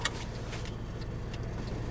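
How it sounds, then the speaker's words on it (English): Seatbelt pulled out and latched inside a Mercedes cabin: a steady low rumble of a nearby car underneath, with a few light clicks and jingling metallic ticks from the buckle hardware, close and fairly quiet. "I'm going to put the seatbelt on."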